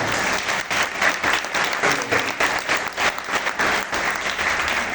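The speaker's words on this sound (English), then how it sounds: "Give him a round of applause." An audience applauds the captain, bright continuous clapping from a crowd lasting about five seconds, close and loud with slight swells.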